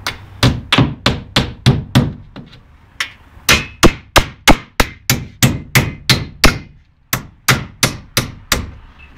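Sharp hammer blows drive nails into a wooden batten fixed over a hole in plasterboard, landing in quick steady runs of loud, ringing knocks with short pauses between groups, close by and with no talking.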